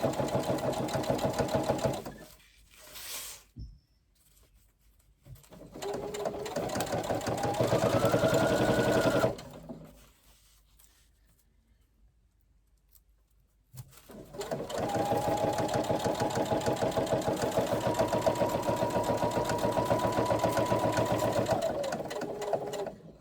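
A sewing machine stitches Velcro loops onto a backpack side seam, running in steady loud bursts of several seconds, stopping briefly, then resuming for a long continuous run with no talking.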